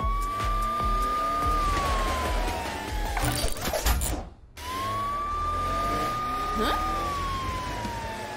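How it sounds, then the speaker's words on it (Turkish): A police car siren wails in long rising and falling sweeps, cutting off briefly before resuming, loud over cartoon background sounds. "Matilda, sanırım o sireni kullanmanın tam zamanı"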